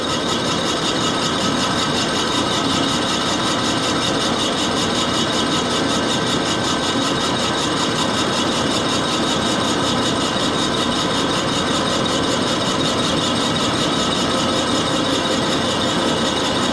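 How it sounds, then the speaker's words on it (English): An Axelson lathe boring a Harley-Davidson Twin Cam cylinder makes a continuous, even metallic cutting hiss and whine with a steady machine hum underneath. It holds level and close for the whole stretch, with no talk. "Now this is the first time I ever cut into a twin cam cylinder"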